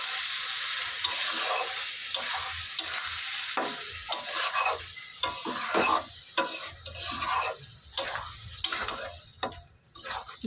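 Tomatoes, white sesame and poppy seeds fry with spices in a pan. A spatula scrapes and stirs in repeated strokes over a constant sizzle, with no one talking.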